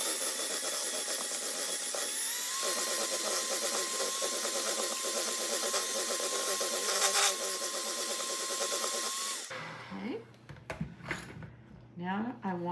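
An electric mixer whirs steadily on low speed while mixing brown sugar, giving a continuous motor drone that stops abruptly, followed by a person talking.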